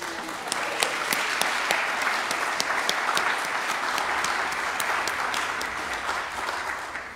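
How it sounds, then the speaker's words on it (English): A church congregation at a Sunday morning prayer service applauds a children's choir with dense, sustained clapping at close range, steady for several seconds and no voices on top. "And if you'd like to applaud them,"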